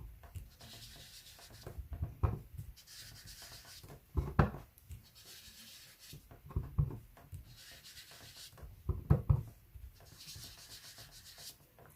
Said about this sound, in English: So just rub that green in the center of each snowflake.